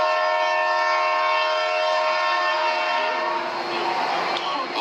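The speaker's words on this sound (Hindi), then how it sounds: "उतनी देर में ट्रेन आ जाती है।" A train pulls into Haridwar station as a drama sound effect, its loud sustained horn-like tones sounding close and continuous, then fading into rumbling rail noise.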